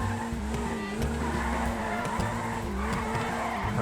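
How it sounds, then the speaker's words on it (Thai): A Toyota Trueno AE86 drifts in GTA V, its engine droning loudly and steadily while tires squeal and skid continuously through the slide, close and unbroken. "ดริฟแบบโอเวอร์ดริฟกันเลยทีเดียว"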